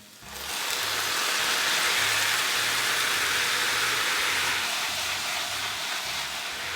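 Tofu in a pan with liquid smoke and tamari soy sauce reducing, a steady loud sizzling hiss like heavy rain that stays constant throughout, with no talking.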